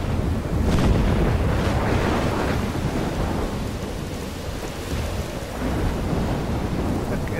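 Heavy rain and rolling thunder from the video game Life is Strange, a loud, constant wash of downpour with deep rumbles throughout and no voices.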